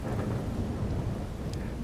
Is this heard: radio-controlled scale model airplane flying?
no